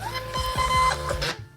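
A Rongta RP420 thermal label printer runs through a quick label print, giving a fast rhythmic mechanical whirring with regular clicks that stops abruptly after about a second and a half.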